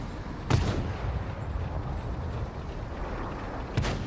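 Two tank cannon shots in a tank video game, sharp distant-sounding reports spaced a few seconds apart over a steady low engine rumble.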